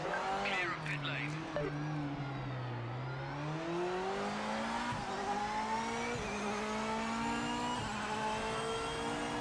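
A race car engine in the video game Project Motor Racing drones and shifts pitch continuously, revving up and down with tyre noise, close and steady throughout.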